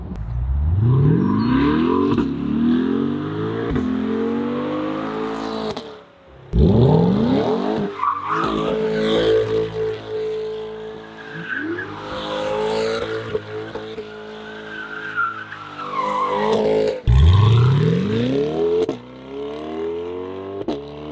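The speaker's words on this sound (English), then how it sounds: "I've showed you a nice little donut with the exhaust." A 2020 Chevrolet Corvette's loud aftermarket exhaust roars as tires squeal and skid through repeated donuts, the engine surging and dropping in bursts.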